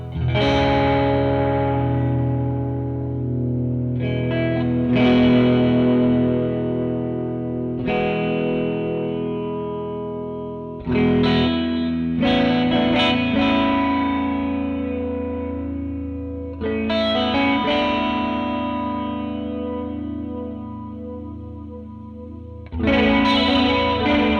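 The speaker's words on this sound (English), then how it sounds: "That's just a beautiful flanger sound." Guitar played through a Death By Audio Disturbance pedal set to flanger: sustained distorted chords with a sweeping, swirling, chorus-like wash, struck in several loud bursts separated by short decays, with no talking.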